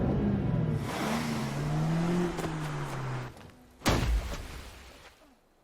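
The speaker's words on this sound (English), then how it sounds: "then sends the car into the water with him" A car is driven into a remote lake in a film: a loud engine drones with slowly falling pitch, then drops away before a sudden heavy burst near the end that fades out.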